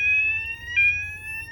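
A Ramtech WES3 wireless fire alarm system sounding its full alarm tone: a loud, steady high-pitched electronic tone that holds continuously with a brief warble partway through, over a low background hum.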